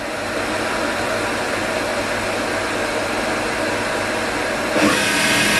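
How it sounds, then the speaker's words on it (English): A Haas mini mill spindle spins at 500 RPM, giving a steady, loud whirring hum with a brief rise in pitch and level near the end. "Now we'll run the spindle starting out at 500 RPM."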